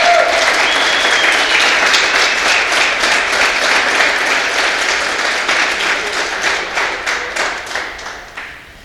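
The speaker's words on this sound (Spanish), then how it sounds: "Tú y yo estamos destinados a dar un aplauso al Señor." A church congregation at an Easter Sunday service bursts into sustained applause, dense and loud at first, then thinning into more distinct individual claps as it gradually fades.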